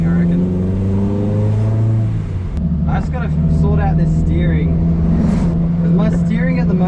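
The engine of a Mitsubishi Lancer Sigma, fitted with new engine and gearbox mounts, revs up loudly during hard acceleration. The droning pitch climbs, drops at a gear change, then climbs again, with a voice faintly underneath.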